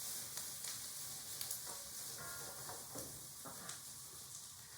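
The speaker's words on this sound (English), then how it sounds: "Now you're just going to saute your asparagus for 7 to 10 minutes until you think it's done." Asparagus sautéing in a pan for Thanksgiving vegetables gives a low, steady sizzle with faint scattered clicks of stirring, quiet and continuous throughout.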